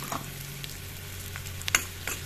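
Turmeric and salt being stirred in a frying pan, a soft steady sizzle of frying under a low hum, with a few light scrapes and clinks of the spoon against the pan.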